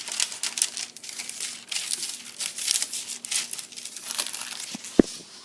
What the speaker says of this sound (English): take a pair of scissors to cut the edge or the excess paper off